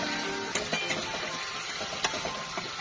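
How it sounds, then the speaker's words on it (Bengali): Whole spices fry in hot oil in a pan for a prawn curry, giving a steady close hiss of sizzling with small pops and crackles throughout. "ফোড়নটা একটু ভাজা হোক, চিংড়িগুলো তুলেছি না, সেই জন্য ওরকম তেলের মধ্যে বুঝবুঝি হচ্ছে"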